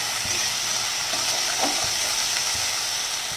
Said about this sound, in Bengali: এবার এটাকে ভেজে নেবো ভালো করে, কাঁচা গন্ধটা যাতে